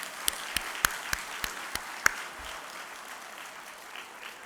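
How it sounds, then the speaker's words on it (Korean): Church congregation applauding, a soft even wash of clapping with a few sharp nearby claps standing out early before settling into a quieter steady patter. "한번 박수 한번 합시다."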